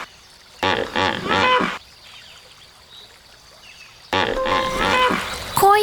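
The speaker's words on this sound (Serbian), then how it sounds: "Kakav zvuk nilski konj proizvodi?" Hippopotamus calls, two loud bursts of deep, grunting, honking bellows separated by a quiet pause, the second longer and ending in a higher squeal.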